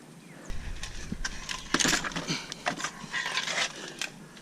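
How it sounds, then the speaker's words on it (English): A dog panting close by in a workshop setting, quick rhythmic breaths mixed with scuffling, jingling and shuffling movement noises, with no talking. "You a good dog?"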